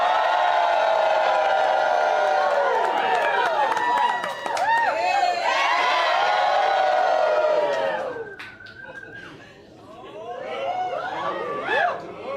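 A studio audience cheers loudly, a dense roar of voices with whoops and shrieks that stays strong for about eight seconds, then drops away and swells back up near the end.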